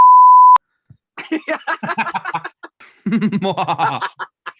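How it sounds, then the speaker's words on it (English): A single short, steady electronic censor bleep covers a spoken name, followed by soft chuckling and snickering laughter in bursts. "I am actually gonna bleep out her name the whole time"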